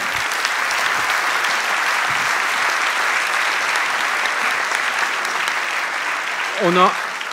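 A conference audience at a Medef business evening gives sustained, even applause for several seconds, a dense wash of clapping hands, with a brief voice breaking through near the end.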